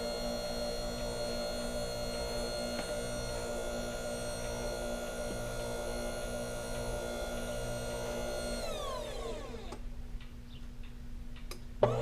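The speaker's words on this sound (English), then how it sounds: "now the machine is backing up because it wants to get the rest of the pasta all out of there" A Korean fresh noodle making machine runs with a steady mechanical hum and regular ticking, then winds down near the end as it backs up to clear the remaining pasta; no voices.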